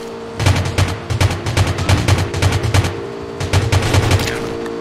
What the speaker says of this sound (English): Gunshots sa daan.